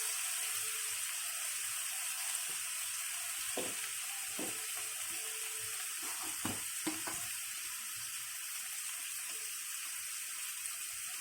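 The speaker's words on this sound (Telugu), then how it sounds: "ఒక 2 నిమిషాల పాటు వేయించుకోవాలి" Masala seasoned with chili powder fries in a pan with a continuous, fairly faint sizzle, broken by a few scattered scrapes and clinks of stirring, and no talking.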